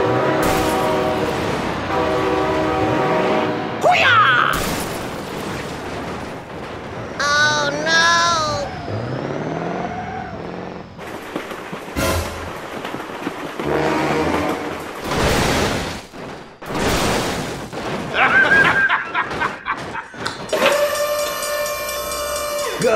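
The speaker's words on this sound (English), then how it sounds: "Oh my God, train!" Train rumbling past with a long steam-style whistle blast in BeamNG Drive during a truck and bus speed-bump run, loud and mixed with engine and crash noise, while someone shouts excitedly over it.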